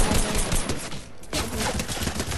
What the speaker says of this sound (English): Attack submachine gun.